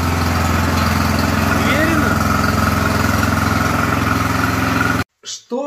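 A newly bought walk-behind tractor (motoblock) on its first start, its small engine idling loudly and steadily with a dense rattling drone up close, then cutting off abruptly near the end; someone talks over it.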